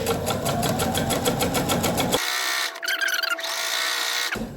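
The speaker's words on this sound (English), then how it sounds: "I'm going to chain stitch one of these darker pieces to the lighter pieces" A sewing machine chain stitching darker quilt pieces to lighter ones for a table runner: a rapid, steady motor-driven needle rattle, close and loud, followed by a quieter whirring pass and brief mechanical clicks.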